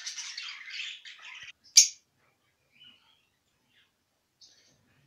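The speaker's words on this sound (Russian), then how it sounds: "Перед вами попугаи породы неразлучники." Masked lovebird parrots squawk in an indoor room: a cluster of harsh, raspy calls followed by one loud, sharp squawk, then a few faint chirps in near silence.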